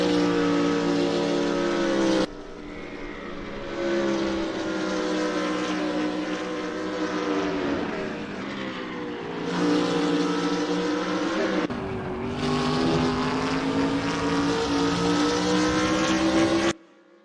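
A BMW Z4 race car drives a track session, its engine roaring loud and steady with rising and falling revs, sharp drops at gear changes and lifts, and a sustained high-rpm howl throughout.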